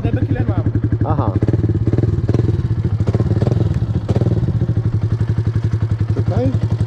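A Yamaha R sport motorcycle with an aftermarket exhaust and dB killer idles loudly nearby, a fast, steady, popping engine pulse that continues throughout while people talk over it.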